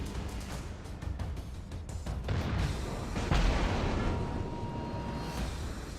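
Battleship North Carolina's naval guns firing in a ranked video game match, a series of deep, rumbling booms rolling one into another over a steady low roar of battle noise; no talking.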